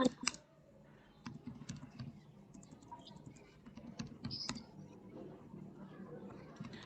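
Typing on a computer keyboard goes on in bursts of irregular clicks and taps, quiet and close, with a few louder keystrokes and faint background noise.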